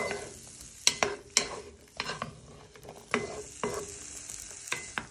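Spring onions and green peppers sizzling in a hot pan, with repeated scraping and stirring knocks from a spoon at irregular intervals.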